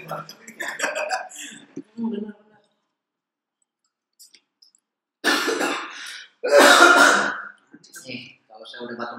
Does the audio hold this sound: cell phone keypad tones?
no